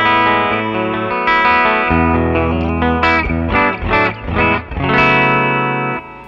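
A Charvel PA28 electric guitar played clean through a Fender Twin Reverb amp simulation rings out with sustained chords and single notes, loud and close, shimmering with a chorus-like sheen and no voices.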